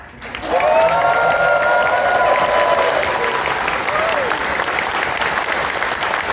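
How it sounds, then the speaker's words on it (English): An audience at a convention opening ceremony breaks into loud, sustained applause that swells quickly and holds steady, with a voice speaking briefly over the clapping near the start. "So please, could you give a huge round of applause for Rose?"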